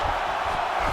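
Crowd noise in the EA Sports UFC 5 video game, a dense roar of cheering arena spectators filling one continuous second, loud and unbroken, with commentary voices mixed in.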